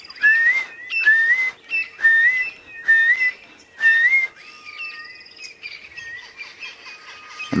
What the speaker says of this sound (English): That's the boo-boo calling there.